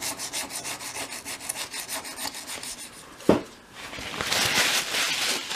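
A chisel held flat scrapes steadily along wood while work on a dolls house attic goes on, a close, continuous rasping stroke repeated rhythmically, broken by a sharp knock midway and followed by a broader rubbing hiss.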